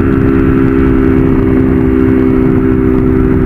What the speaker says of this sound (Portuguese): tô de quinta marcha acelerando tudo aqui